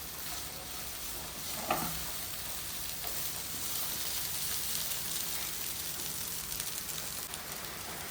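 Anchovies frying in oil in a pan with pepper powder for a Kerala-style fish fry, a steady close crackling sizzle with a brief clatter of the fish going in and being mixed, no talking.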